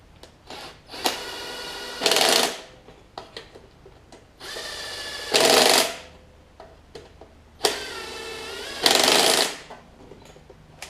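An impact wrench drives bolts on the cylinder head of a Snapper RER mower, sounding three loud, close, rattling bursts of about a second each, evenly spaced, with small handling clicks and knocks between them.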